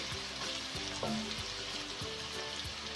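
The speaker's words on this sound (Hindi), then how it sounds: "देखिए हमारा अदरक लहसुन की बुनाई हो गई है" Ginger and garlic paste fries quietly in a pan for an aloo baingan curry, with a soft, even sizzle and occasional faint utensil taps, and no one talking.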